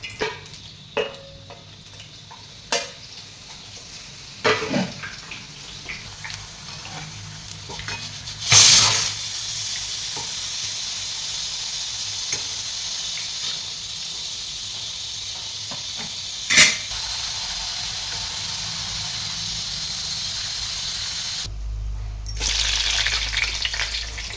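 Homemade urad dal papad frying in hot oil, a steady broad hiss of oil with a couple of sharp louder bursts as pieces hit the pan, then a brief drop and a final rush of sizzle.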